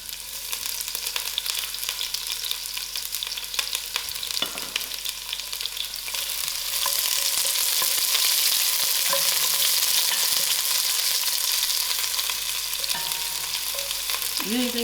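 Onions fry in a pan for a brinjal dhal, a steady loud sizzle that grows stronger midway, with occasional stirring scrapes and clinks.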